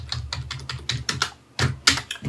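Keys clatter in quick irregular bursts as someone types on a computer keyboard while adding a calculated column in a sales data table, close and clear with brief pauses between strokes.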